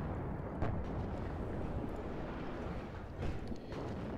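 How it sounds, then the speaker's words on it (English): Distant artillery fire rumbles through a real-time strategy battle in a 3v3 match on an airport map, a steady low boom-filled roar with a couple of sharper blasts standing out, and no talking over it. "Lots of artillery going on."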